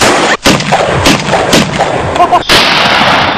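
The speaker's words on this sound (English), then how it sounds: "Have the shells, a 12-gauge shotgun." A 12-gauge shotgun fires in a loud, dense sequence of blasts, with one sharp gap near the start and another break about two and a half seconds in, close and harsh throughout.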